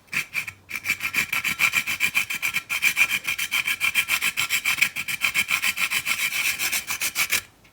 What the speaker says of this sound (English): we're just going to add some grated nutmeg